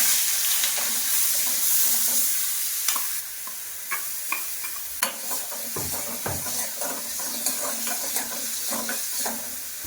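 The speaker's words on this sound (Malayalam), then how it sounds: "നമ്മൾ നേരത്തെ ചതച്ച് വെച്ചിരുന്ന സവാളയും വെളുത്തുള്ളി വെക്കും" Crushed onion and garlic fry in coconut oil in a pan for a simple dal curry. Close, steady sizzling is broken by scraping stirs and clinks, with no talking.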